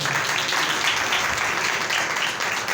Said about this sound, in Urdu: زوردار تالیاں خداوند کے لیے بجا دیں.